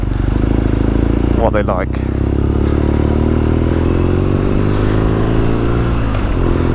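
The engine of a 2020 BMW R nine T Scrambler motorcycle thrums loud and continuous under a rider's voice, with a heavy low rumble and steady harmonics while riding, and a brief burst of wind buffeting near the start.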